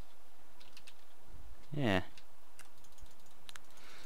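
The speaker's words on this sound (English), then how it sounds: "Just clicking like a madman." Rapid computer mouse clicking and keyboard typing while sculpting an island landscape, faint light clicks scattered across a quiet room, with a short spoken word near the middle.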